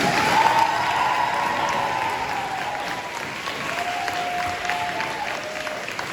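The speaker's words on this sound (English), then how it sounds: "please give a round of applause to our coaches and sponsors" Sustained applause from a crowd at a school sports banquet, steady and fairly loud, with no break for the full length.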